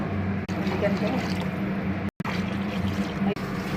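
Water pours steadily into a pot of basmati rice, a continuous splashing fill with a brief break midway, heard close up under background noise.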